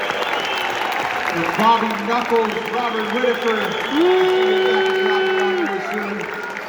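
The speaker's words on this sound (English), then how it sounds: "How about one more round of applause for Kayo Ohio" A crowd applauds UFC fighters at a ceremonial weigh-in stage event in Perth, the steady clapping running throughout beneath a host's amplified voice.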